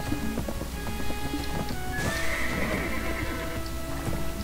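A horse in a video game whinnies loudly midway, a rising then falling neigh over hoof clip-clops, soft rain-like patter and a steady layered musical background.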